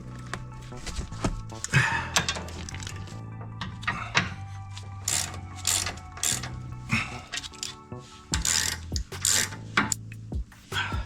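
Bolts on the sway bar bushings of a Volvo XC90 being tightened under the car, with repeated ratcheting clicks and metallic clanks in uneven bursts, fairly close, no talking.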